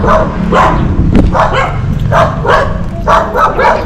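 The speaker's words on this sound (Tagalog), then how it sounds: "ang daming aso dito, grabe" Several dogs bark repeatedly in quick, uneven bursts at a farm in the Philippines, over a steady low background rumble, loud and fairly close.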